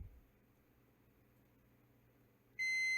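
Multimeter continuity test on a Game Gear circuit board, a quiet hiss followed by a single sharp, loud, sustained electronic beep cutting in near the end.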